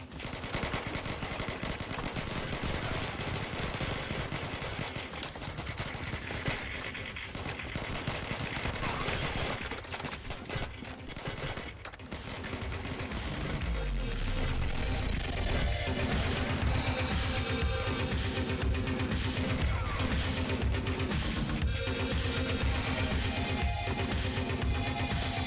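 M4 rifle gunfire in a video game sounds as dense, continuous automatic bursts with loud, sustained firing across the whole stretch. Battle noise adds to it, and a voice talks faintly underneath.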